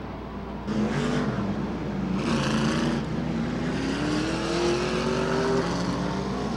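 Race cars circling Rockford Speedway behind a Pontiac GMC pace car at a 1996 short-track event, a steady engine drone with rising whine and passing swells at moderate distance, no talk.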